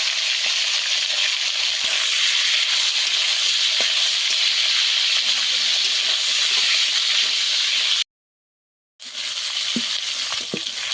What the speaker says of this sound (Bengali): মাছের মাথা ভেজে তুলে নেবো